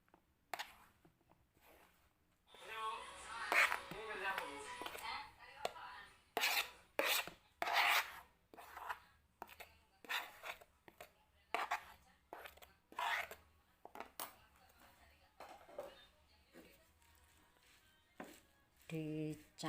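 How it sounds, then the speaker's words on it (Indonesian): Grated coconut being mixed by hand into a spice paste for Javanese corn rice, giving irregular bursts of close, gritty rubbing and scraping strokes with short pauses between them. "Baru ini kelapa yang sudah saya parut tadi, saya campurkan ke bumbunya ini."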